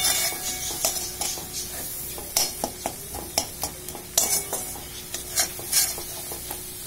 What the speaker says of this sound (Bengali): এবার এটাকে ভালো করে মিক্স করে নিয়ে একটু ফ্রাই করবো